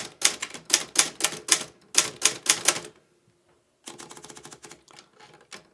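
Olivetti Graphika typewriter typed in standard spacing: a fast run of loud, close mechanical key strikes, a brief pause, then a second burst of lighter clacks, with no voices.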